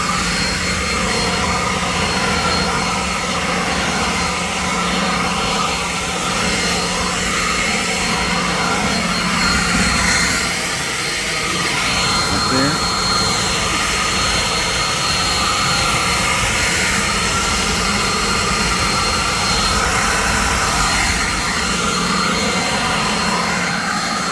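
An Alloyman 40W cordless dual-battery leaf blower runs close by with a steady, loud, jet-like whooshing roar that holds almost unchanged for over twenty seconds, with no talking.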